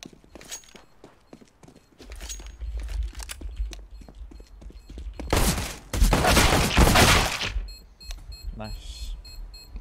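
Bursts of gunfire ring out in a competitive first-person shooter match, sharp rapid shots in clusters with a dense volley midway, under lively talk among players.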